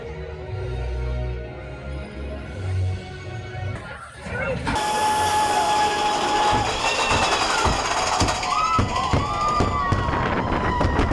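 Fireworks show at Magic Kingdom, with loud booms and crackling bursts building after a quieter start, continuing steadily amid theme park crowd noise.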